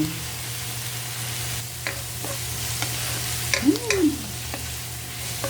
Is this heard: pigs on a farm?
no